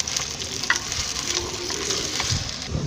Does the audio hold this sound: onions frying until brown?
yes